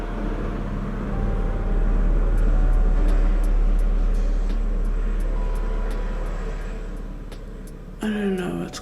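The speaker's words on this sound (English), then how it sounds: "I don't know what's going on with the helicopters." Helicopters flying overhead, a steady low rumbling drone that swells and slowly fades across the whole stretch, with a brief clatter near the end.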